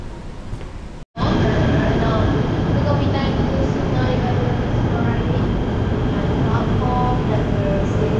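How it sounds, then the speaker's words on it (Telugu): Train to Batu Caves pulling into a Kuala Lumpur station platform, a loud sustained rumble with squealing, tonal brake whines, following a brief quiet break near the start; a voice talks over it. "బట్టు కేస్ ట్రైన్ అయితే వచ్చేసిందండి"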